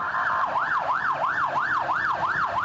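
An ambulance siren wails through Bangkok traffic in a steady, repeating rise-and-fall pattern, loud and close, over a low rumble of traffic with no talking.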